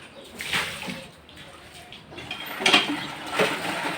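Water is splashed and scrubbed across a home courtyard during washing, giving soft irregular swishes and splashes in several bursts, close and moderately loud with some light clattering, and no talk.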